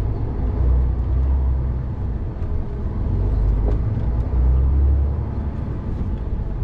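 Truck engine rumbling steadily while driving on a road, with a continuous loud, low drone and road noise from inside the cab and no talking.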